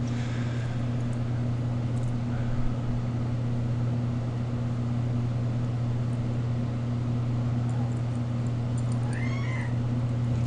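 A cat meows a few times, faint and brief, over a steady low electrical hum and background room noise.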